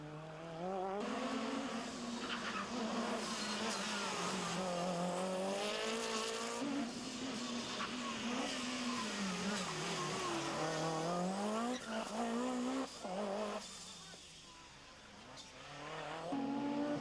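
Group B rally cars on a tarmac stage at the 1985–86 Rally of New Zealand, engines howling and revving continuously with rising and falling pitch as they pass, tire squeal mixed in, steady and fairly loud throughout.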